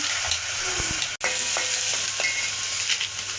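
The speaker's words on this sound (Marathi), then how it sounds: "आता भाजून घेते मी मस्त असा मसाला भाजत आहे" Spice masala roasting in a pan for katachi amti, a steady soft sizzle and crackle with a few stirring scrapes, one brief dropout partway through.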